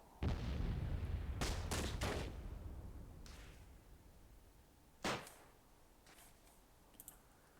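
Mortar fire in the Myth II Soulblighter strategy game: a heavy low boom opens, followed by several sharp cracking impacts and a later burst, spaced irregularly against a quiet background.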